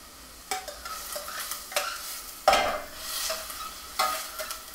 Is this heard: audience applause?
no